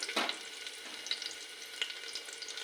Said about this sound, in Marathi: लसूण चांगला लाल होऊ द्या।